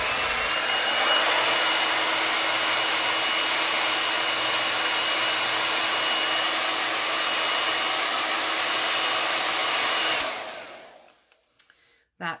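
A hair dryer blows hot air over a fresh chalk transfer on a crafting project, roaring loud and steady close by for about ten seconds before switching off and winding down, followed by a few faint handling knocks.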